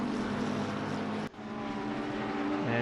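Race car engine in a racing video game at Donington, a steady loud droning whine that cuts out briefly, then builds again as the car accelerates.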